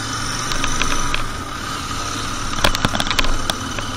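A car creeps slowly along a badly broken road near Darjeeling, its engine a low steady drone, with a cluster of sharp knocks and rattles from bumps toward the end.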